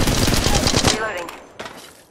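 Automatic gunfire in Apex Legends Mobile, a rapid burst of loud, close shots for about a second, then quieter scattered sounds and a final short hit.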